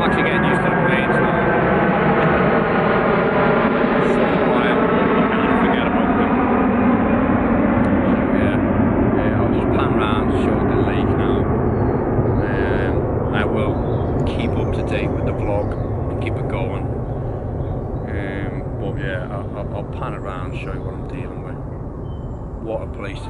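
A jet airplane flies over a lake at Wraysbury, its loud roar with a sweeping, falling whine peaking early and then slowly fading away over about twenty seconds, with talking heard faintly beneath.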